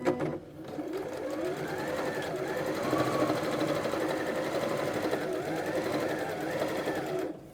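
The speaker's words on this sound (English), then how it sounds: "we're going to sew the second line" Sewing machine stitching a quilt block, a steady fast mechanical whir with rhythmic needle chatter running continuously for several seconds, close and moderately loud, with brief pauses at the start and end.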